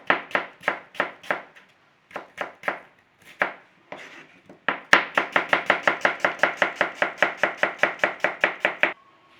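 Apples sliced with a knife on a board for a Shropshire fidget pie: crisp, evenly spaced cuts, sparse and paused at first, then a fast steady run of about twenty close, loud strokes, no voices.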